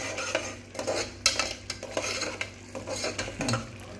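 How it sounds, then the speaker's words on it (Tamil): Ground masala is stirred into mushroom biryani in a pan, with a metal spoon scraping and clinking against the pan in irregular strokes over a soft sizzle, close and alone. "இப்போ நம்ம அரைச்சி வச்சுருக்க மசாலாவை சேர்த்துக்கலாம். சேர்த்துட்டு நல்லா கிண்டி விடுங்க."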